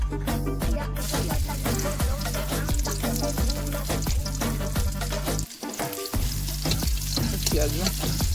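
Oil sizzling in a pan over a home stove, a steady close frying hiss with crackles and occasional stirring scrapes running throughout, alone without talk.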